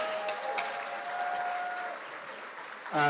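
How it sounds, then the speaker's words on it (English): Applause from a luncheon crowd for a local soccer team's win, a steady wash of clapping that carries for a few seconds before breaking off abruptly into a louder, different sound. "let's give a hand clap for that"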